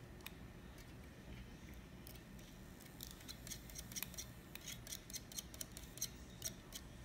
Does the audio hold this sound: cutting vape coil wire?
yes